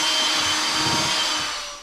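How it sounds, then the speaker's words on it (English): A strong blast of air blows dust out of a drywall joint before taping, a loud close hiss lasting under two seconds that fades at the end. "blow it out so you don't have any dust in there"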